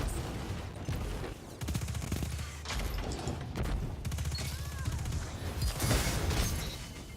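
Heavy shotgun blasts in the shooter game Destiny 2, a dense run of booming shots and crashing impacts over constant battle noise, with no talking.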